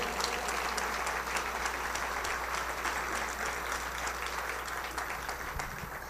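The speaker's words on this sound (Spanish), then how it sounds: "Dense un aplauso, por favor, ustedes, dense un aplauso." Sustained applause from a parish congregation at an interparish gathering, filling the room evenly and steadily over several seconds, with a low hum underneath.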